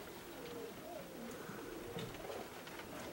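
Young cock pigeons, bred the previous year and of a high mountain line, coo softly and repeatedly in a loft, with overlapping low calls and faint flutters and background noise.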